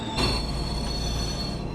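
A DB BR 218 diesel locomotive train in Train Sim World 6 brakes into Klingenberg station on the Maintalbahn in fog and snow, giving a steady high metallic squeal over a continuous low rumble, with no talking.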